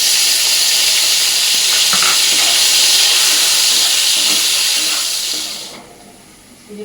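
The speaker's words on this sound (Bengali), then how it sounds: "গাজরটা ভাজা হয়ে গেছে এর মধ্যে পনিরটা দিয়ে দেবো" Paneer dropped into hot oil in a large wok where carrots have just been fried gives a loud, steady, close sizzling hiss that holds for several seconds and then cuts off sharply.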